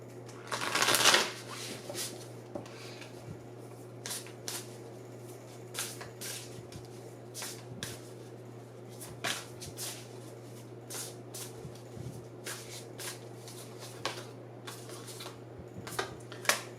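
A deck of oracle cards is shuffled, with one loud riffle near the start followed by many soft, scattered taps and slides as the cards are handled close by, no talk.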